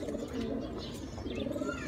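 Pigeons in a loft coo softly and repeatedly at some distance, low rounded calls over a faint background hum with a few higher chirps.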